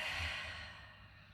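A single soft exhale through the mouth during a home yoga session, a breathy sigh that fades gradually, quiet and close with no talking.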